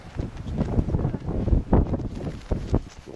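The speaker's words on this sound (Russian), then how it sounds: "эти палатки прогибаются от ветра" Gusty wind buffets and flaps a tent with low rumbling thuds and rustling, close to the microphone, rising and falling irregularly, at Chokrak Lake in Crimea.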